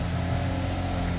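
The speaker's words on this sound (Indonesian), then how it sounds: "Halus ya, halus mesinnya" A 2022 Lexus LX 600 engine idles as a smooth, steady low hum, close and constant throughout with no voices over it.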